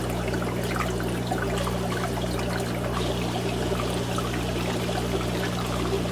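An aquarium hang-on-back filter starts up, giving a steady rushing pour of water with a constant low hum underneath, unbroken and close throughout.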